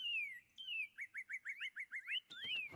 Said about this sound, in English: The house is just full of bird noises.